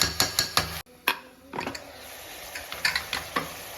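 Mutton head curry pieces cooking in oil in a pot, with a spoon stirring and scraping in quick repeated strokes over a soft background sizzle, close and fairly clear.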